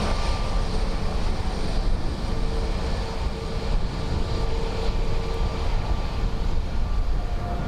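An Aer Lingus airliner arriving from Milan at Dublin Airport on a windy day rumbles at moderate distance, a low continuous roar with faint tonal whines and gusty wind noise.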